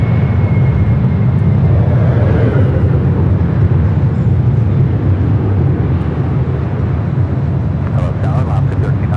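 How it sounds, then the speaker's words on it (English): An Emirates Airbus A380 taxis toward takeoff at Los Angeles airport, its jet engines producing a steady, loud, low roar that holds constant throughout, with faint wind noise and no talk. "Emirates 1216, the A380 Super heading back to Dubai. Should be heading up here for north side and takeoff."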